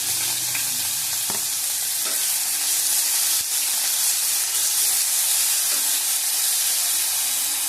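Onions frying in a pan for a pakora filling, a steady close sizzle and hiss with occasional stirring scrapes running throughout.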